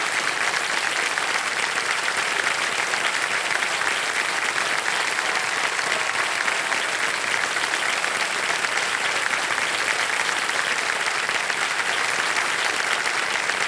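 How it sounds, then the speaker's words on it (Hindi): Studio audience applauding on a televised quiz show set, a dense, even wash of clapping that stays loud and constant for the full duration with no talk over it. "तालियां बज जाए इनके लिए।"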